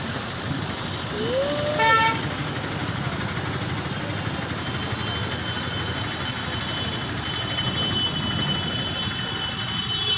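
A car horn toots once briefly near the start amid a town traffic jam, over a steady rumble of idling engines and distant street noise.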